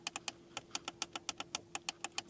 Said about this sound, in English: clicking sounds here for the volume button and also